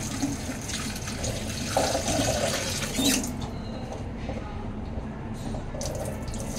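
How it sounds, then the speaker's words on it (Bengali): Potatoes rinsed under a running kitchen tap, a continuous close rush of water into a sink with slight splashing that thins out toward the end, and no clear talk. "আমি ভাবছি আলুটা আরেকবার একটু ধুয়ে নিই।"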